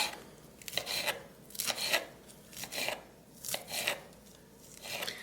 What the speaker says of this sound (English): And then you just fold that back in and just slice it up.